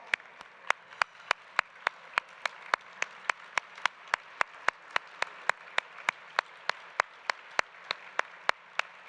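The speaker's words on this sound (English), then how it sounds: "Let's stand up and give them a round of applause." Event audience at a business hall of fame ceremony claps in slow, evenly spaced unison beats, crisp and sharp against a quiet room.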